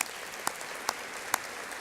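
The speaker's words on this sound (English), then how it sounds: "Please join me in a round of applause for these individuals." A college audience at a state-of-the-college address claps in scattered, thin applause, a few sharper individual claps standing out at intervals above a soft, hissy wash of hands.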